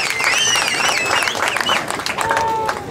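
Outdoor crowd applause at a ceremony handing out motorbike riders' driving licences, dense clapping throughout with whistles and cheering voices over it.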